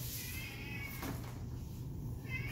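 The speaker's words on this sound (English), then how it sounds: "that's our cat in the background" A pet cat meows faintly in a quiet room, once near the start and again at the end, each call short and distant.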